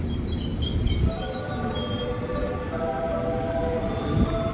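A commuter electric train arriving at Gondangdia station in Jakarta rumbles steadily with a low, continuous roar and faint tonal whines, sounding close by as it rolls along.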